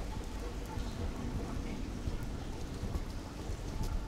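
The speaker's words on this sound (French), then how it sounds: "Il pleut toujours" Steady rain falls outdoors in a dense, continuous hiss with scattered drops, fairly loud and close, with no speech over it.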